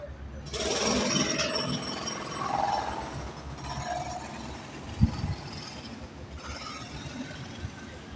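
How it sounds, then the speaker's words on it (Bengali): Intercity train pulling out from a station platform in Bangladesh, a low rumbling roll with rhythmic clatter of wheels over rail joints and a sharp metallic clank partway through, heard from nearby at moderate volume. "মাত্র 2 মিনিট দাঁড়াইয়ে ট্রেনটা ছেড়ে দিল"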